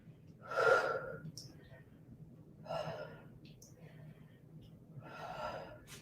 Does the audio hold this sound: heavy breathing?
yes